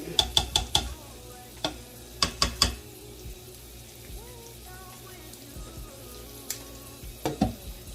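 Shrimp cooking in a frying pan, a soft crackle of sizzling throughout with bursts of sharp clatter and scraping as the shrimp are stirred and moved, close and moderately loud.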